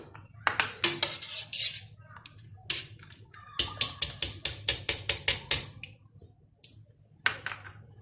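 Metal strainer clinking and scraping against a pot while scooping out lemon pieces and cinnamon sticks during honey making, a series of sharp bright clatters in bursts, with a rapid rhythmic run of taps in the middle, close up.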